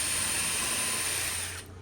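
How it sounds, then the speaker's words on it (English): A FlexiSpot E6 Max standing desk frame being slid outward, giving a steady dense mechanical rattling whir that runs continuously and then drops off abruptly near the end, close by and with no voices. "So expanding the frame out till it's overhanging of 5 inches on each side"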